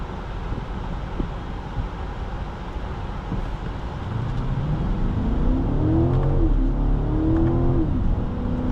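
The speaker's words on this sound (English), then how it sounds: "Oh my god, amazing acceleration." A 2023 BMW X5 M50i with a twin-turbo V8 accelerates hard, heard from inside the cabin: a steady road rumble gives way midway to a rising engine note that climbs through several gear changes under wind noise.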